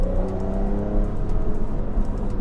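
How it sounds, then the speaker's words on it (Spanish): A Porsche 911 Targa GTS with a 3-litre twin-turbo flat-six boxer engine drones steadily from inside the cabin while driving in Miami, a smooth sustained hum with a slight rise in revs and no speech. "En este caso estoy manejando en Miami un 911 Targa GTS."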